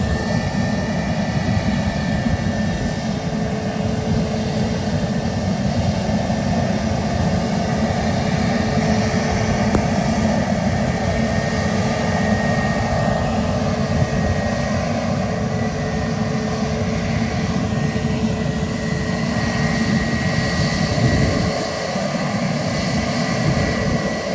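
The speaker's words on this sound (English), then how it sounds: "Aircraft coming in, that's why." An aircraft comes in to land at Bristol Airport, its engines a loud, steady roar and whine that holds throughout and fills the whole scene with no other sound.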